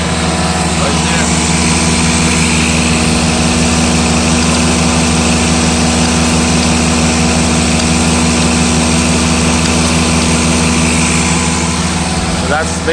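A Mercedes 600SL V12 runs at a steady high idle during a throttle body test, a loud, even engine drone with constant low vibration that holds unchanged throughout.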